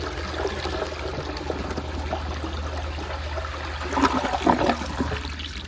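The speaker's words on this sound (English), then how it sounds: "yeah, here's another flush." A 1998 Universal Rundle Athens toilet flushes, a steady rushing of water through the bowl that swells briefly near the end, heard close and alone.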